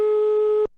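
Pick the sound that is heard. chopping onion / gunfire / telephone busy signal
telephone busy signal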